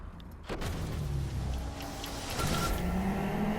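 A race car engine roars steadily in the DRIVECLUB driving video game, loud and constant. The pitch rises toward the end as the car accelerates.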